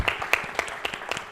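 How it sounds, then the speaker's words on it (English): Audience applause at a panel event on art for social change, heard as brief scattered claps with sharp transient peaks, moderately loud and without talk over them. "Let's give Dean Elwood and the students another round of applause"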